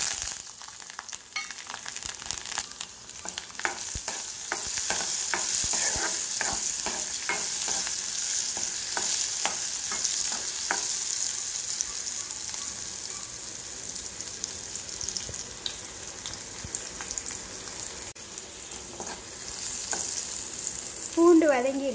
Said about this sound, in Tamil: அதில் பூண்டு கருவேப்பிலையும் போட்டு